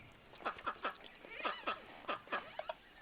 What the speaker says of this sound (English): Ducks quacking loudly.